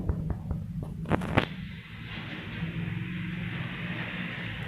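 Gunfire in the Counter Strike army video game: a quick burst of several sharp shots in the first second and a half, then a steady hum of game ambience with no further firing.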